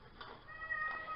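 A house cat meows in a faint, drawn-out call in the background of a quiet indoor room where miniature crafts are being made.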